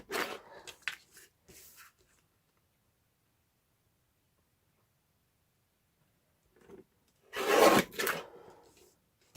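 A small see-through paper guillotine trims a card, its blade giving a short papery rasp near the end, with a few quieter rubbing strokes at the start and silence between.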